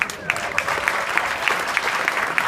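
An audience claps steadily, a dense wash of applause with some louder rhythmic claps standing out, fairly loud and continuous.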